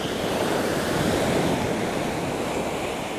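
Strong wind blowing onto Bamboo Beach (Had Mai Phai) on Koh Lanta, Thailand, with surf washing in, a steady loud roar of breaking waves and gusty wind buffeting the microphone.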